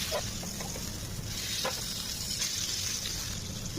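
Pomfret fish fries in a pan with a steady, loud oil sizzle that runs throughout, broken by a few small pops and crackles.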